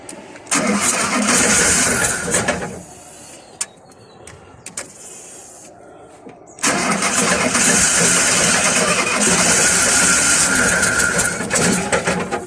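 A car engine with its exhaust brackets removed cranks and catches, then roars loudly with a rattly, uneven idle after a brief quiet pause and a second start.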